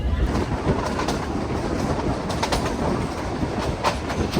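A meter gauge train rolls along steadily between Sasan Gir and Somnath with continuous rumbling and rattling, wheels clacking faintly, and birds calling now and then in the background.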